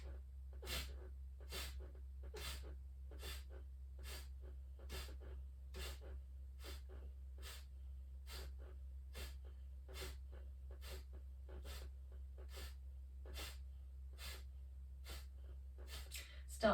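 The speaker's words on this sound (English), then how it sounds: "it'll be that pumping, focusing only on the exhale, drawing the tummy in" Pumping yoga breath with forceful exhales, a long run of about thirty sharp, breathy puffs through the nose at a brisk, regular pace, each short burst close and distinct over a low steady hum.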